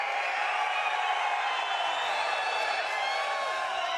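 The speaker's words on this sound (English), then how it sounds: "I want you guys to make the loudest noise." A large convention audience at CitizenCon, the Star Citizen event, roars and cheers in a sustained, dense wall of crowd noise with whoops, steady and loud throughout.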